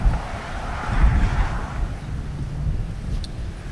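Wind gusts across a golf course on a course by houses, a broad rushing roar buffeting the microphone, steady and fairly loud with surges throughout.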